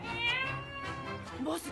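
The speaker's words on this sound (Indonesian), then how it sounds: "lalu berkata meong meong meminta makan" A black cat meows for food, a pleading cry of about two seconds with rising and falling pitch, close and fairly loud.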